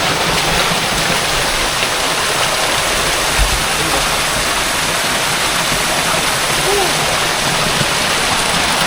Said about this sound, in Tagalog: Ito yung falls. Maliit siya.